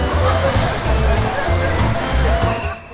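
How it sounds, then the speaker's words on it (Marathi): Lazy river ride at a water park: a loud, continuous wash of rushing, sloshing water with rhythmic surging swells, close and enveloping, with voices faintly in the mix. "एका गोल नदीत येणाऱ्या लाटांवर स्वार होत तरंगत तरंगत डुबत राहायचं."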